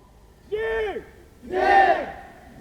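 Loud crowd of striking newspaper print workers raising two short unison shouts, close and one after another, at a union general strike press event.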